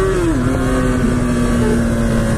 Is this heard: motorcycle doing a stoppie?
yes